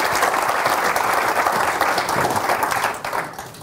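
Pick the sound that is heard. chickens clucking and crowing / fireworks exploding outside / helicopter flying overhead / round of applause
round of applause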